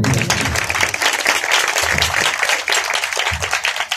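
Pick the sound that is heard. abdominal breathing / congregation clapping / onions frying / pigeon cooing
congregation clapping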